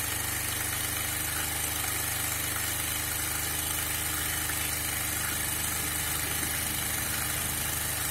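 A Bajaj Pulsar 150 motorcycle engine idles steadily and loudly up close after a carburetor adjustment, with a continuous rough, slightly uneven throb and no voices over it.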